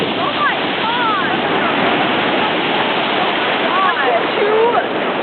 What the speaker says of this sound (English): Two waves like collided. That was insane.